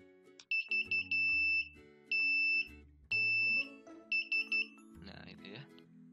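Piezo buzzer wired straight to a Raspberry Pi GPIO pin with no resistor, sounding in repeated shrill beeping bursts of varying length, loud and close, with some electronic tones and background noise between.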